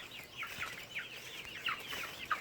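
Shamo and Barred Plymouth Rock chickens, about two months old, cluck and chirp in a free-range pen. The calls come in quick repeated bursts with no talk over them, and one sharper call rises near the end.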